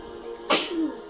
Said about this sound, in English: She has a little sneezy day.